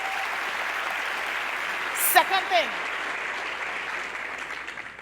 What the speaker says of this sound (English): A round of applause for something I like to see in young people,